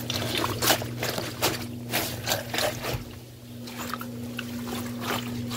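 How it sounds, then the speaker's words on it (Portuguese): Water drains out of an Electrolux LPR16 washing machine, a soft, continuous trickle and gurgle over a low steady mechanical hum, with faint splashing pulses. "A lavadora começou a drenar"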